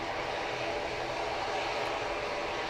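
A FedEx feeder aircraft engine runs up at Grand Cayman airport, a steady broad roar of propeller engine noise holding constant throughout, moderately loud from some distance.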